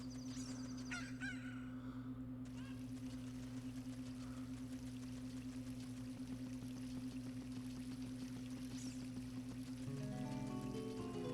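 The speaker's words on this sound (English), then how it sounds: "Now I can finally come up to her and grab this chicken" A cucco chicken from the Ocarina of Time video game clucks and squawks in a few brief bursts over a steady droning game soundtrack, with no speech.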